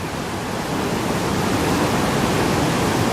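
Swollen, flooded brook rushing at near-river volume after storm damage, a dense steady roar of running water close by, continuous and loud with no talking.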